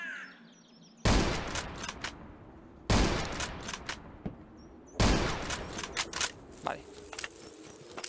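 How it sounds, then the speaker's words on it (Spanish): Gunfire between enemy NPCs in the pixel-art survival shooter Zero Sievert, three sharp bursts of rapid shots with short quiet gaps, echoing and moderately loud, with talk over it. "entre ellos, como veis, también se disparan"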